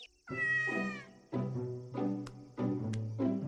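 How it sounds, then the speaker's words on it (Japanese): A cat meows repeatedly up close, a long whiny call followed by several shorter plaintive meows in steady succession. "猫。"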